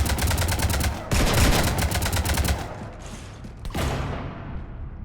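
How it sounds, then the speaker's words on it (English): Rapid automatic gunfire from Mass Effect 3 rattles in dense bursts, pauses briefly, then resumes, loud and close with sharp repeated shots. "You want to stop shooting up my ship?"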